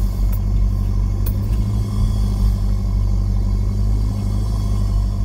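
An off-road car with a front locker climbs rock steps, its engine a steady, close, loud rumble with little change in revs and no talk.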